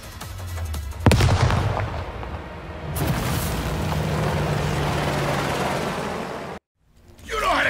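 A thrown explosive goes off with a sharp, loud blast in Crime Boss: Rockay City, followed by a long rumbling roar and debris. A second surge of noise comes, then sudden silence before sound returns.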